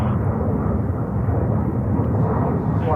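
Wide-body airliner jet engines at JFK airport in New York, a loud, steady broadband roar filling the whole stretch without letup.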